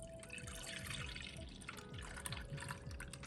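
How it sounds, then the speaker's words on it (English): Milk poured into a custard pie mixture, a soft continuous trickling and gurgling of liquid, close and fairly quiet, with no talking. "Go ahead and pour your milk on in"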